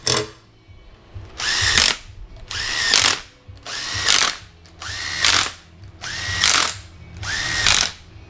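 Bolts are run in with a power driver during an engine cam install, in six loud, evenly spaced bursts of whirring and ratcheting about a second long, separated by brief quiet gaps.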